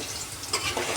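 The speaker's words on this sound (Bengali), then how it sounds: "এখন আলুটাকে সুন্দর করে ভেজে নেবে লাল করে" Large potato chunks frying in a pan, heard as a short faint sizzle with soft crackle, close and without talk.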